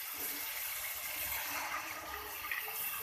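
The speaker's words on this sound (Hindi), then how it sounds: "भुनाई करने के बाद अब इसके अंदर मैं पानी डाल दूंगी" Water pours steadily into a pot of turnip and meat curry (shaljam gosht) after the frying stage, making a continuous, even splashing hiss with no talking.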